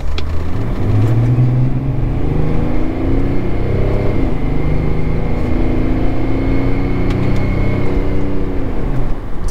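A BMW X5 E53 3.0 diesel SUV pulls away and accelerates on an empty road, its engine note rising steadily and droning loud and close throughout, with no talk.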